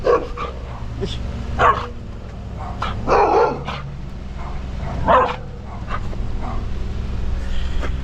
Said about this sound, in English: Absolutely beautiful dog, man.